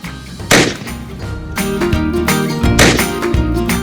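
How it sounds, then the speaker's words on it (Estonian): A Kieferle W2 mole trap set on a lawn snaps shut with a loud, sharp bang, followed by a burst of clattering and ringing noise from the released spring mechanism. "Päris kõva pauk, nii et see peaks muti seliti võtma küll."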